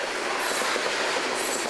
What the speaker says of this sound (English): we rush down here in the northbound BNSF grain train